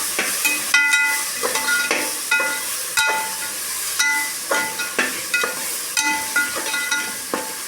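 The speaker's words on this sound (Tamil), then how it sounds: "பாருங்கள், இப்போ நல்லா வெங்காயம், தக்காளி, புதினா எல்லாம் நல்லா வணங்கிருச்சுங்க" Onion, tomato and mint sauté in a pan for a mushroom biryani, with a soft steady sizzle and a regular series of scraping, clinking spoon stirs about once a second.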